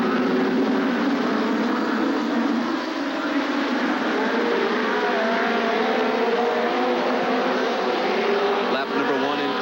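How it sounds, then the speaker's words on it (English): TQ midget race cars roar around Ascot Park in 1989 at the start of a 20-lap main event, a dense, steady engine drone from the whole field filling the air. "The green flag in the 20-lap main event for the TQ Midgets is underway."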